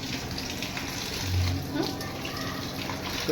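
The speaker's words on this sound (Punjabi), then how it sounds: "ਮੈਂ ਧੋ ਰਹੀ ਹਾਂ ਮਟਨ ਤੇ ਕੱਲਾ ਕੱਲਾ ਪੀਸ ਵਧੀਆ ਤਰੀਕੇ ਨਾਲ ਧੋ ਰਹੀ ਹਾਂ" Running tap water splashes steadily over mutton pieces being washed at a kitchen sink, a constant moderate gush with faint handling noises, while someone talks over it.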